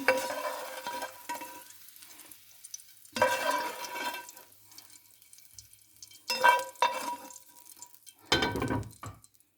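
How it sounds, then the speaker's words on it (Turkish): Fried sausages and peppers being emptied from a pan, with several bursts of scraping, clattering and sizzling separated by quieter gaps. "Tavamızdan boşaltalım"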